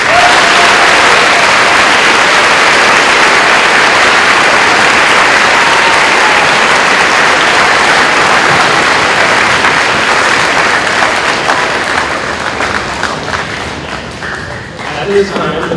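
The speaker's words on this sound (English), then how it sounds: "Can we please give that a round of applause?" A school gymnasium crowd at a high school Veterans Day program bursts into loud, dense applause that holds steady for most of its length, then thins into scattered individual claps and murmuring voices near the end.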